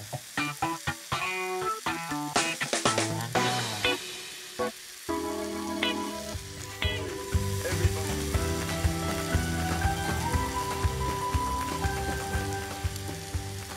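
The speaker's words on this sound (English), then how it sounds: "you can hear that starting to sizzle" Balinese chicken satay skewers on lemongrass sizzle over a charcoal barbecue, a steady close crackle and hiss with clinking and handling knocks early on.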